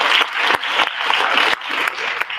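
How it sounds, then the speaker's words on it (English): Steady, dense applause from an audience at an awards ceremony, a continuous wash of clapping with a few brief dips, filling the whole moment without talk. "Applause again, stand up."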